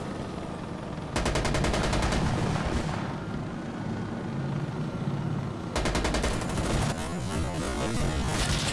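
Bursts of rapid automatic gunfire in the shooter Insurgency: Sandstorm, two loud sustained volleys separated by a quieter stretch of distant battlefield rumble and scattered shots.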